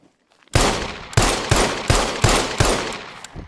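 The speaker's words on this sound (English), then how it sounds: "we have got the original Magnum 357. And again, 6 bullets into your chamber." Six heavy gunshots from a Magnum .357 revolver in the survival game SCUM, fired at a steady pace of about one every half second, each a loud sharp crack with a short ringing tail, with no voices.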